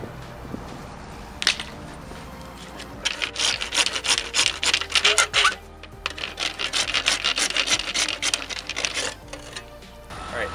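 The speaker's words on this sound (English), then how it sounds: "Take this here hacksaw. We're gonna cut this up." A hacksaw cutting an inexpensive plastic lip for a car bumper: close, rapid back-and-forth rasping strokes in steady bursts, starting after a few isolated scrapes and pausing briefly midway.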